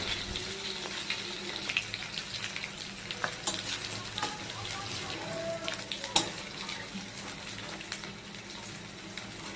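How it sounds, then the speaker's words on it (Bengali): Chicken pakora pieces fry in hot oil, crackling and bubbling continuously up close, with occasional sharp pops and utensil clinks and no talking. "চিকেনগুলি লাল লাল করে ভেজে নেওয়ার পর তুলে নিতে হবে।"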